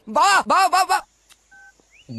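A telephone keypad gives a single short, steady dual-tone beep after a burst of loud, harmonic voice-like sound, with a brief rising tone and more voice at the end.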